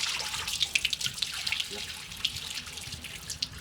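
Water runs steadily while a frog nursery pond is cleaned, a close, continuous splashing flow with small drips scattered through it.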